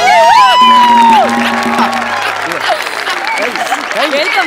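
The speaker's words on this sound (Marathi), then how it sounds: "एकदा जोरदार टाळ्या झाल्या पाहिजे ओंकार भोजने सर यांच्यासाठी." Loud audience applause bursts out with a whistle and whoops at the start for guest judge Onkar Bhojane on a Marathi comedy show stage, then settles into steady sustained clapping and cheering.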